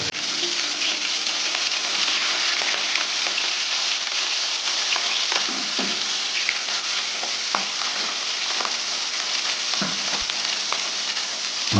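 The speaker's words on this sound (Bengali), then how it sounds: "মাছগুলো হালকা করে ভেজে নেব বেশি লাল করব না" Rui fish sizzles steadily in hot mustard oil, a loud continuous frying hiss with occasional soft pops and crackles throughout, no voices.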